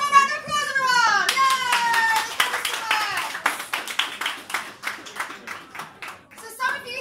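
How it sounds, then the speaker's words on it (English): A small crowd gives a round of applause at a launch party for a chemistry business, with uneven clapping under a lively voice and excited children's chatter. "One more round of applause, everyone."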